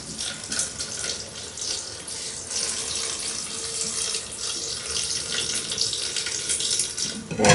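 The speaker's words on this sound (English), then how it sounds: "And now I'll just put the water in." Water poured into a glass vase holding paperwhite bulbs, a steady close splashing stream that runs for several seconds and swells slightly toward the end.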